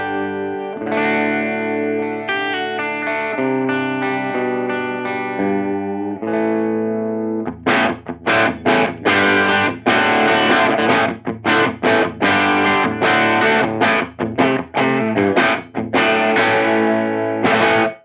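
Gretsch G5222 electric guitar with Filtertron pickups played through a plexi-style amp set clean with low gain, first sustained ringing chords, then loud rhythmic chopped chord stabs with short gaps, no voice.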